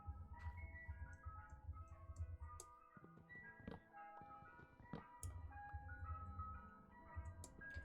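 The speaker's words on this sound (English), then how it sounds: "you hear the the ice cream truck?" An ice cream truck passing outside plays its tinny, repetitive jingle, a looping melody with a low rumble underneath, heard faintly from a distance through the room.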